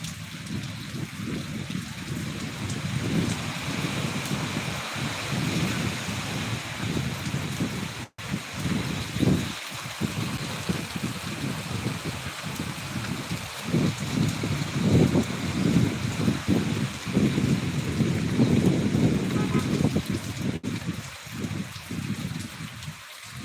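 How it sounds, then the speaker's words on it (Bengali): A storm in Rajshahi brings steady heavy rain with gusting wind, a dense, constant rushing roar with low rumbles and a few brief dips, heard without voices. "মাঝে মধ্যেই আর কি জোরে জোরে বাতাস হচ্ছে"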